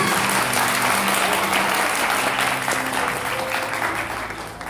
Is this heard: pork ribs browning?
no